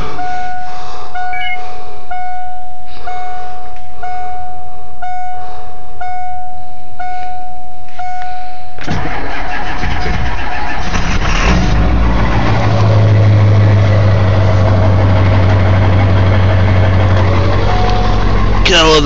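A Powerstroke diesel truck starts cold at 15 degrees after nine hours unplugged. A few evenly spaced chimes come first, then the engine cranks, catches with a loud burst and settles into a heavy, rumbling idle close by.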